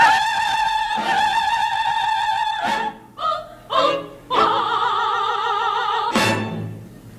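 Sopranos sing high sustained notes in a comedic sketch, a long held tone, then a few short bursts, then another long phrase ending in a sharp high cry.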